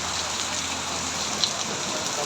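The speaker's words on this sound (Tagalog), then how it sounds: "Sobrang lakas ng ulan mga kalode." Steady, dense rain pours without pause, a broad hiss that stays loud and even throughout with no voices.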